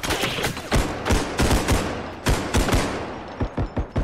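Gunfire in a realistic first-person shooter game, with loud sharp shots fired singly and in quick bursts through a window, near and dense across the whole stretch with no talking.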